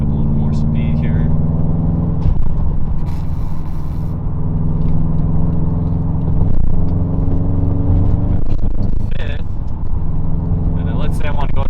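A manual-transmission car engine steadily builds revs while accelerating to gain speed, a loud continuous droning rumble heard from inside the car, with occasional clicks and shifts in pitch.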